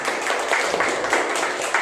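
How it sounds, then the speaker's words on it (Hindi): A congregation claps steadily through a Sunday evening church service, a dense, even patter of many hands at moderate volume with no talking over it. "तो क्यों ना हम उनके लिए भी ताली बजाएं।"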